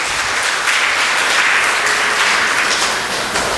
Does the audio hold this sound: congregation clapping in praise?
yes